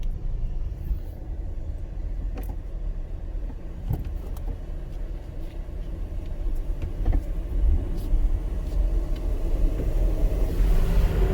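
Car driving along a road, a steady close low rumble of engine and tyre noise from inside the cabin, with faint clicks and light road thumps, growing slightly louder toward the end.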